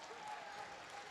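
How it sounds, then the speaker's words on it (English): Arena applause during a college men's hockey game, SUNY Oswego versus Adrian College, a steady wash of clapping for the penalty kill unit over the whole short stretch, with a held tone running faintly underneath. "Oswego will get a change and a round of applause for that penalty kill unit"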